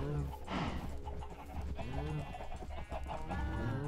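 Chickens cluck in the Minecraft video game, short clucks scattered over game music and ambient sound, close and moderately loud.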